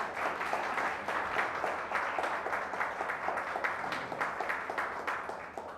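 A church congregation gives a sustained round of applause, a dense wash of many hands clapping at a steady level throughout with no pauses.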